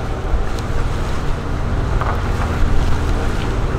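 A catamaran under sail, heard from the bow, gives a steady loud rush of wind and water with constant buffeting across the whole stretch and no voices.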